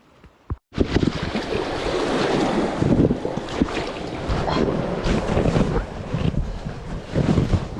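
Big sea waves surge around a kayak on an expedition near the Darien Gap, a loud, continuous wash of water heavily buffeted by wind on the microphone, starting after a brief click and short silence.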